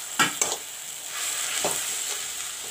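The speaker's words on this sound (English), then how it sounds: "fry the masala with the methi saag. Methi saag is fried up with the masala." Masala with fenugreek leaves (methi saag), cumin and coriander powder fries in a pan. A soft continuous sizzle is broken by a few quick stirring scrapes near the start and once more later.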